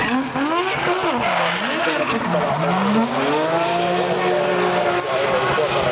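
A drift car with a 771-horsepower Toyota engine at a 2012 drifting event: continuous loud tire squeal and a revving engine whose pitch swings up and down as the car slides close by.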